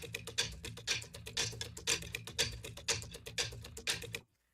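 Metal and wood percussion preset from the Zero-G Mobeus plugin, playing a quick, clicky pattern of bright ticking and knocking hits over a low tonal hum for about four seconds before stopping abruptly.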